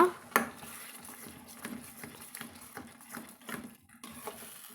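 Tomato pickle cooks in a pan on high heat while a spoon stirs it, making repeated soft scrapes and faint clinks over a low, quiet background.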